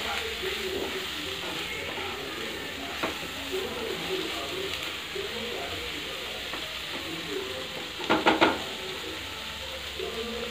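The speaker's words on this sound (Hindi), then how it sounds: "बस इसको अच्छे से चला के मिक्स कर लेंगे।" Achari aloo sabzi, a spiced potato curry, stirred in a pan with a steady broadband sizzle throughout, soft scraping strokes, and a brief burst of sharper scraping clatter near the end.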